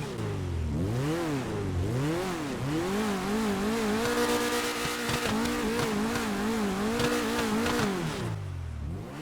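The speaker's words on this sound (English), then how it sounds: "There we go, a pretty amazing sounding car, as you would expect. It is a rally car" A high-revving Lampadati Tropos Rallye rally car engine in GTA 5 roars continuously, pitch climbing and dropping through gear shifts, loud and close with no voices.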